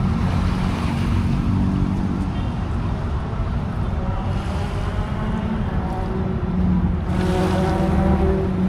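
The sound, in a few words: waves crashing on the shore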